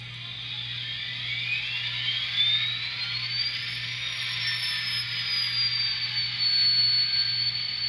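A train simulator locomotive engine starts up with a rising mechanical whine that climbs and then holds, over a steady low hum, continuous for several seconds.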